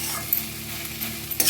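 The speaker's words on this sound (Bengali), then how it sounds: "এই চিনিটা এর সঙ্গে মিক্স করে দিই" Sugar is stirred into water spinach (kalmi shak) frying in a pan. A steady, close sizzle runs throughout, with a few soft scrapes and clinks from the spoon or spatula.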